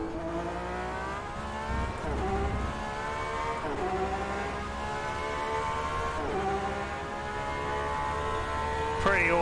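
A GTE Pro race car engine lapping Le Mans in the rFactor 2 racing game, loud and close, revving up through the gears with repeated rising sweeps and quick shift drops.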